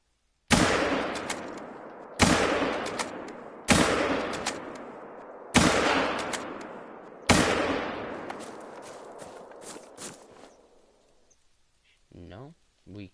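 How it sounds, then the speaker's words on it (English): Five loud, evenly spaced rifle shots fired in theHunter: Call of the Wild, each with a sharp crack and a long decaying tail, followed by brief faint sounds near the end. "Now we'll fire another clip into it"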